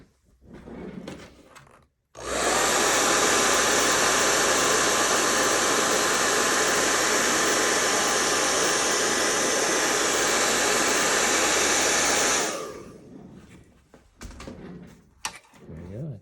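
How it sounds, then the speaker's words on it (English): After brief talk, a hair dryer switches on, aimed at the deck of a 1:200 scale model battleship, and blows loudly with a steady whooshing roar for about ten seconds, then winds down as quiet speech returns. "We'll hit it with the hair dryer."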